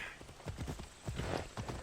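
A horse's hooves clip-clop in the Assassin's Creed Odyssey video game, a quiet, steady rhythm of muffled hoofbeats with faint background ambience and no talking.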